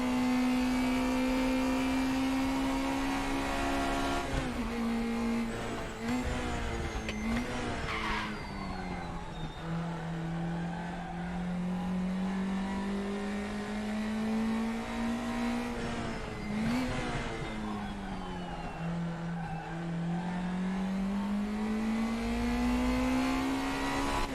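A race car engine in RaceRoom Racing Experience drones loudly throughout, its pitch rising and falling through gear changes and throttle lifts, with tire squeal and skidding through the corners.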